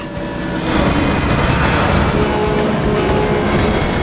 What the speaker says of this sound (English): Don't get hit by the train, you fool!